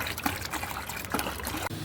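Floor cleaning lotion being stirred into ten litres of water, a soft close sloshing and trickling of liquid with a few splashier bursts, no talking.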